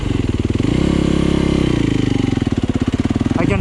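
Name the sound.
Yamaha YZ250FX dirt bike engine in first gear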